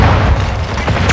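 A grenade blast in a first-person shooter video game, a dense low boom that rumbles steadily through the moment with a brief brighter burst near the end.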